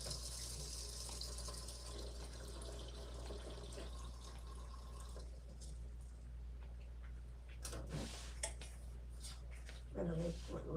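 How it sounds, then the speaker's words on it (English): Tap water running into a cooking pot of lentils, a soft steady stream at low level, with faint clinks and a few brief louder splashes near the end. "Then we'll put water in here."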